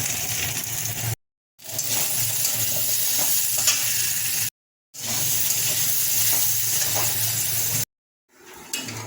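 Onion, ginger, garlic and green chilli sizzle and crackle steadily in hot oil in a pan, with stirring scrapes, broken by a few brief gaps of silence.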